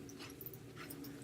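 A dog whimpers and yips in short, thin high cries over a steady low hum, fairly quiet and close, with no talking.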